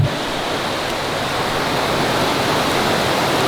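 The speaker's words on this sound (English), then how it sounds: "There's a gorgeous little creek here right at the start of the trail" Small creek running at a trailhead, a steady, even wash of flowing water heard close by with no breaks and no voices.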